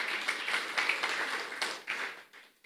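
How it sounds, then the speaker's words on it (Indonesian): Church congregation clapping in a sermon hall, a fairly faint, uneven burst of hand claps lasting a couple of seconds and tapering off at the end. "Tepuk tangan buat Tuhan Yesus."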